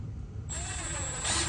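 A power drill with a magnet on its tip driving short screws into a drawer slide, a brief steady motor whir starting abruptly and rising slightly in pitch, close and alone.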